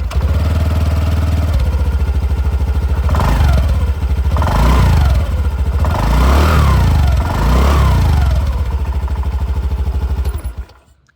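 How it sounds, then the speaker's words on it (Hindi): A 2026 Honda Dio 125 X-Edition scooter with a metallic muffler cover idles close by, then its exhaust is revved four times in a steady rhythm, each rev rising and falling back before the engine cuts off at the end. "चलिए यहाँ पर इसकी जो एग्जॉस्ट साउंड है वो भी मैं आप लोगों को सुना दूं"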